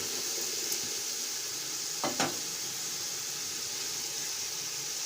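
Peas tipped into a hot pan of biryani in progress, giving a steady soft sizzle of frying with a couple of brief stirring scrapes and clinks partway through.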